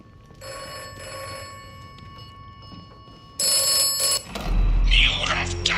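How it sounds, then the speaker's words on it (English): A telephone rings in the post-apocalyptic game Atomfall, steady repeated bell tones through the first seconds before louder game sounds and talk take over. "I hear the phone ringing"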